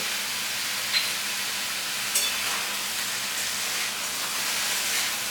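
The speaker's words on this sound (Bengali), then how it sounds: "উচ্ছে আর আলুটাকে ভেজে নেব কিছুক্ষণ লো মিডিয়ামে" Bitter gourd and potato pieces frying in a pan over low-medium heat with salt, turmeric and Kashmiri chilli powder, giving a steady, soft broadband sizzle with a couple of small pops, no talking.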